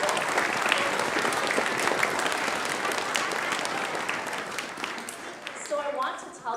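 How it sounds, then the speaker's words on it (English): An audience at an elementary school winter band and orchestra concert claps steadily in a dense, sustained round of applause that thins out toward the end. "Give them a round of applause."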